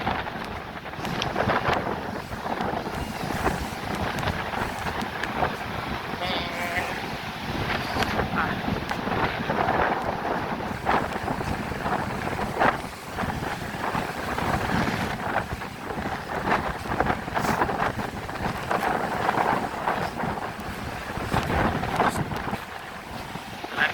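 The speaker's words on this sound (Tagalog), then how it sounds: "sobrang lakas ng hangin" Strong typhoon winds by the sea buffet the microphone in a constant roaring rush, with deep rumbling surges throughout.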